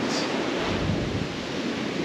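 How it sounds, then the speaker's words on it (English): Steady wind gusting across an open beach on a sunny day, a continuous broadband rush with a low rumble of surf or mic buffeting, fairly loud and unbroken throughout, no voices. "There's quite a bit of a wind"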